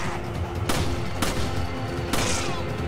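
Gunfire in the video game Resident Evil 5 comes as three sharp, loud shots spaced under a second apart, over a constant background of game noise.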